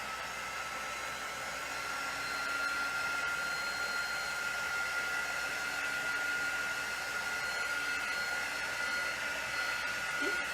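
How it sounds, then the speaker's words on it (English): A handheld quick-dry heat tool blows steadily over craft paste on a papercraft project, a constant close whirring hiss with a fan-like tonal hum that holds unbroken throughout. "I'm going to get my quick dry tool and I'm going to just give it a quick dry."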